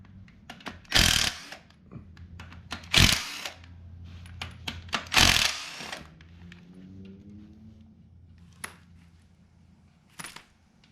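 An impact wrench rattles in short bursts on T40 Allen bolts during a cam install on a 6.0 LQ4 engine, three loud close hammering bursts followed by lighter clicks and metallic handling sounds, with no talk.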